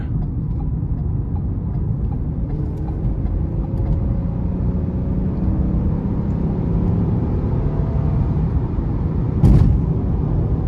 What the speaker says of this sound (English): I'm gonna give it some throttle here getting on the interstate.